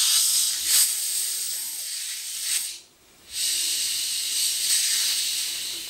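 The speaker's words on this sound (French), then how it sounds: "Donc là maintenant on va pouvoir ouvrir les bouteilles et les filtrer." Fizzy homemade ginger beer hissing steadily as bottles are opened, a loud continuous gas release with a brief break midway before the fizzing resumes.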